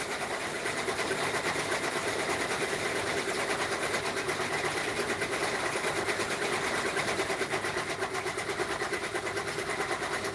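A Bravo embroidery machine runs steadily at close range, a constant rapid mechanical chatter and whir with an even, unbroken rhythm throughout.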